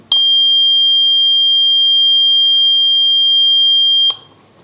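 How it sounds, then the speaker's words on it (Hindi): Laser security alarm buzzer switched on, giving one loud, steady high-pitched electronic tone that holds for about four seconds and then cuts off abruptly. "तो देखिए इसको जैसे ही मैं ऑन करूंगा इसका बजर चालू हो जाएगा।"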